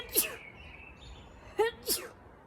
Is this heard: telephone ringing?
no